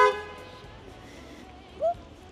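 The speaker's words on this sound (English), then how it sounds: "Somebody honked." A short car horn blast sounds near the start on a rainy Hamburg street, followed by street noise and a faint, brief tonal honk later on.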